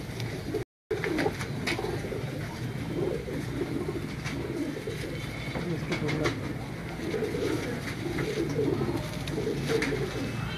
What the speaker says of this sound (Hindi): माशाल्लाह काफ़ी अच्छे कबूतर हैं जी इनके पास